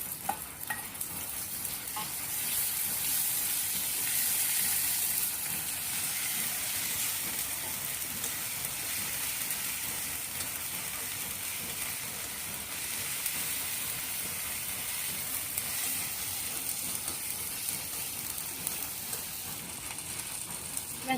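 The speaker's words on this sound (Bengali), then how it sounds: "পেঁয়াজটা আমার ভাজা হয়ে গেছে, এখন আমি দিয়ে দেবো কাঁচামরিচ বাটা।" Onion frying in oil in a pan sizzles steadily and loudly for about twenty seconds, a dense hiss with faint stirring scrapes as green chili paste is added.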